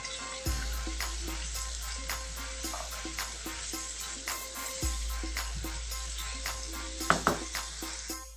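Dal with ginger paste sizzling in a pot while a spoon stirs it, a steady close frying crackle broken by repeated scraping taps and one louder clatter near the end.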